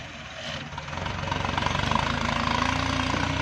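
A heavy diesel tractor engine chugs steadily up close while pushing soil to level a farm plot, its low rumble rising slightly and holding with a rhythmic knock, no voices over it.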